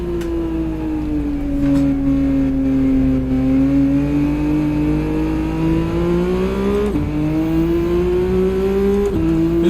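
A GR3 race car engine in Gran Turismo 7 screams loud and close, its tone rising through the gears with two sharp upshifts, then climbing again.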